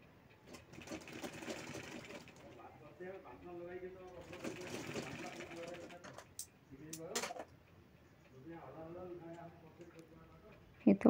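A sewing machine stitches lace onto fabric in short runs of rapid whirring, with pauses between bursts and a voice talking over parts of it, close by.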